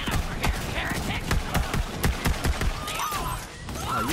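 Rapid gunfire in the video game Borderlands 3, a string of sharp, loud bursts in quick irregular rhythm, with other game sounds and a voice talking over parts of it.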